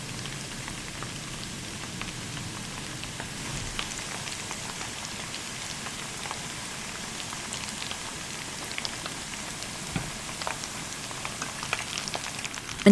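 Potato butter cakes fry in oil over low-to-medium heat, giving a steady, close crackling sizzle with scattered pops and spits continuing throughout.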